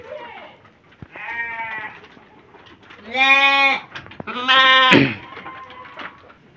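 Several goats bleat loudly in close succession in a pen on a livestock farm, two long wavering calls standing out, with softer bleats and a quiet voice in the background.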